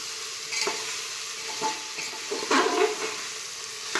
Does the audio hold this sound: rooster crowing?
no